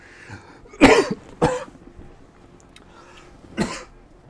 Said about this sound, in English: Sorry for coughing near the mic.